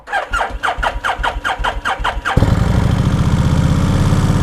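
A 2003 Kawasaki Vulcan 1600 motorcycle cranks with a rapid rhythmic starter whir for about two seconds, then fires up and settles into a loud, steady, close-up rumble.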